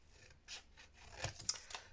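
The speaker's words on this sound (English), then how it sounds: "Let's get the big scissors out so we can do it in one fell swoop" A few close, quiet snips of large scissors cutting paper, spaced irregularly against near silence.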